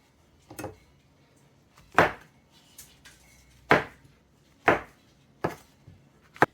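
A knife chops chunky pieces of mushroom for a beef stew, about six distinct sharp thuds on a board at uneven intervals, close and fairly loud, with quiet pauses between strokes.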